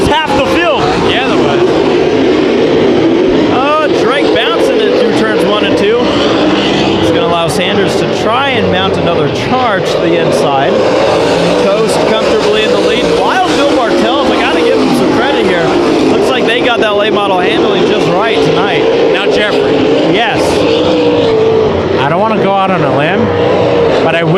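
Race cars battling at Bakersfield Speedway, a dense continuous engine roar with cars sweeping past and revving, loud throughout, with a commentator talking over the racing.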